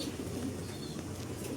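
Racing pigeons coo in a steady low murmur at a loft after a 209 km derby race from Bauang, La Union, soft repeated coos layered over a constant background hum.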